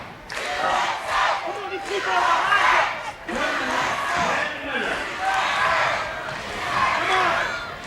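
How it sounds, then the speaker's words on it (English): Wrestling arena crowd at a World Class Championship Wrestling tag team bout chanting "USA" in loud rhythmic waves, a large audience roaring in unison with brief dips between chants, commentator talk faintly mixed in. "And the crowd picking up USA."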